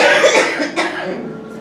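A single loud, close cough from a congested person bursts out and then trails off into a short rasping exhale.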